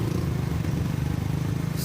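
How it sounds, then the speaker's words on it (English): Aircraft engines running steadily on an airport tarmac as the plane warms up before take-off, a continuous low droning rumble heard from a distance, with no voices over it. "that's a plane starting to heat up their engines and ready to take off"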